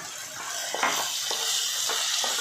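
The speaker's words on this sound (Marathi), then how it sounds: "व आता यामध्ये स्वीटकॉर्न घालायचे आहेत." Sweet corn tipped into a hot pan for a Marathi usal and stirred, a close, steady sizzle broken by a few brief scraping stir strokes.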